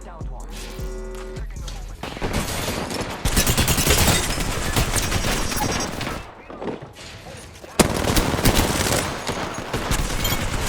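Gunfire in the Apex Legends video game, with loud, dense bursts of rapid automatic fire that rattle on for several seconds, break off briefly and then resume just as intensely.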